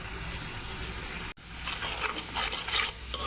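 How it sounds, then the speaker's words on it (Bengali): Spice paste sizzles and fries in a pan for a Bengali fish curry with eggplant and lentil dumplings. A steady soft sizzle breaks off briefly, then resumes with scraping stir strokes. "এবার মশলাটা ভালো করে কষিয়ে নেব যতক্ষণ না মশলার গা থেকে তেল বের হচ্ছে।"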